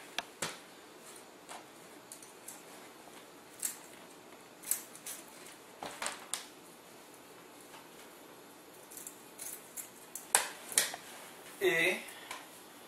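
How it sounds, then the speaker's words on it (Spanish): Scissors cutting a piece of filter material for a homemade aquaponics biofilter, a series of sharp, irregular snips and clicks with quiet gaps between them, densest near the end. "ahora vamos a cortar un pedazo del material que va a ser el filtro que vamos a utilizar"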